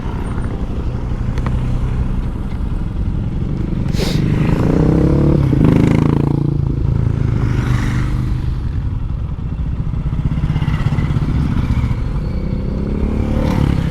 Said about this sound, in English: and then we'll watch all the bikes go by.